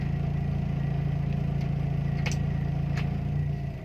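A Timor car engine idles steadily at around 900 RPM with the air conditioning switched on, a continuous low hum with faint clatter, dropping slightly in level near the end.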